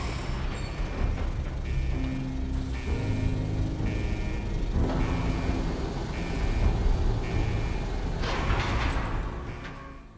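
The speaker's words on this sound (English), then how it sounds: "Vault door cycling sequence initiated." A vault door cycling through its locking mechanism: a sequence of mechanical clunks, grinding creaks and ratcheting movements over a low hum, fairly close and unaccompanied by speech.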